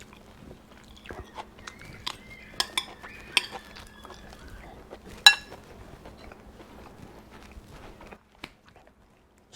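Squash with bagoong chewed at close range, soft wet bites and crunches mixed with light clinks of cutlery on a plate, in a quiet room with no talk.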